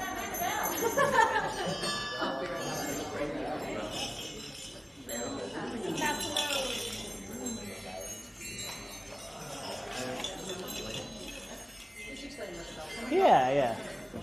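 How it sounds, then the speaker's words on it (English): Handheld bells jingle and clink intermittently as audience members ring them at a live performance, mixed with crowd talk and murmuring, with a brighter ring near the end. "If you want one, raise your hand so that you ring the bell."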